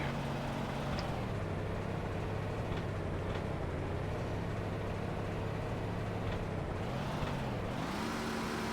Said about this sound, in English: This guy busy shifting gears, ain't he?